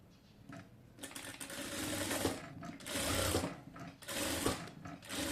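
Sewing machine stitching a neck design onto fabric, its motor running in several bursts of rapid, steady stitching separated by short pauses, close and fairly loud with no talk.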